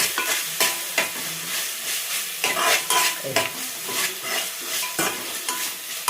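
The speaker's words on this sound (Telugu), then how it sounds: "మంచిగా వేగాలి. వేగిపోయింది చూసారా?" Ginger and garlic fry in a pan for bagara rice, a continuous bright sizzle broken by regular scraping strokes of a spoon stirring, loud and close with no voices.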